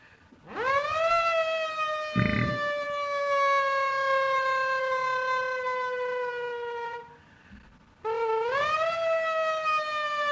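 A human voice imitates a fire engine siren, a long rising-then-falling wail held for several seconds, then a brief pause and another rising wail starts.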